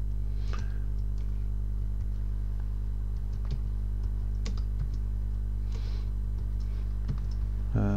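Computer keyboard typing while entering Go programming code, with sparse, irregular soft key clicks over a steady low electrical hum, fairly close and quiet, no talking.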